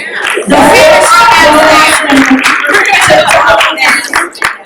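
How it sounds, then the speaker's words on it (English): A convention crowd at a live wrestling fan event clapping and cheering loudly, a close burst of applause with shouts, while voices talk over it. "Round of applause for Nick Aldis"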